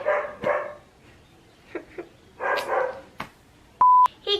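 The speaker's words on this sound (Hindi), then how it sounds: "ये कुत्ता इतना क्यों भौंक रहा है" A dog barks in several sharp bursts, fairly close, with gaps between, and a steady electronic tone sounds briefly near the end.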